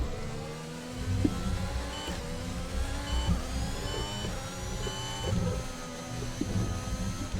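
An F1 car engine in a rainy racing video game drones at high revs, a continuous whining tone rising and falling through gear changes, with a steady hiss of spray underneath.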